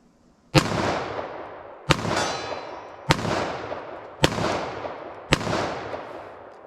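Five loud .38 Special revolver shots from Remington Golden Saber ammunition fire at an outdoor range. Each sharp crack comes about a second apart, and each one is followed by a ringing, decaying echo.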